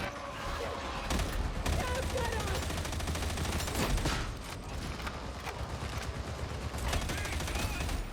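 Suppressing gunfire from enemy gunners in Warhammer 40K Darktide: sustained rapid automatic fire with sharp individual shot bursts, continuous and loud over a dense combat din.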